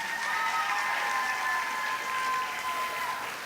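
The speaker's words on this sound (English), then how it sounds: "let's give all her friends a nice round of applause" Steady applause from an audience at an arangetram dance recital fills the room, a dense, even clatter of many hands with a few faint whistles, sustained throughout with no speech.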